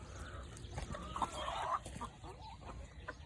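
Chickens cluck in a coop with nesting boxes, several soft, close clucks and short calls overlapping in an uneven rhythm against a low background hum.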